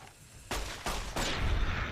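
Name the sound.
pistol gunfire in the video game Fallout: New Vegas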